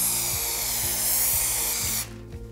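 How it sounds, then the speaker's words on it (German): Water-based Belton spray paint hisses steadily from a can onto homemade dinosaur birthday candles, a loud continuous spray lasting about two seconds before cutting off abruptly. "Ich arbeite hier in mehreren dünnen Schichten und fange immer außerhalb des Sprühobjekts an"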